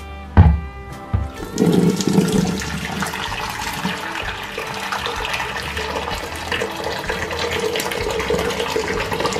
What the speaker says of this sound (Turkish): Şimdi lavabomun açılması için üzerine bir kettle dolusu kaynamış su ilave edeceğim.